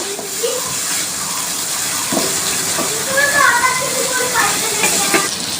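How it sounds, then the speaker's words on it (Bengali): Small prawns frying with spices in hot oil, a steady loud sizzle and hiss with occasional stirring scrapes close by, continuing without pause. "কুচো চিংড়ি মশলা দিয়ে চিংড়ি মাছগুলি ভালো করে ভেজে নেব।"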